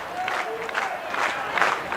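Supporters at a women's rugby league match clap and cheer as their team comes out, a distant crowd roar with rhythmic clapping throughout.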